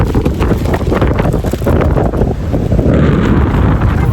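Strong wind buffets the microphone beside a rough, choppy sea on a Miami beach, roaring loudly and unevenly while surf churns underneath without pause.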